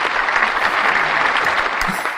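Dense crowd applause, steady clapping from many hands filling the whole stretch, loud and close with no pause.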